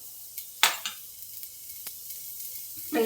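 Green chillies crackle in hot oil while cooking kharda, a quiet frying hiss punctuated by a loud pop and a few sharp clicks, near and without speech.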